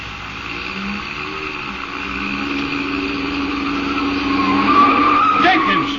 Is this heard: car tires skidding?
yes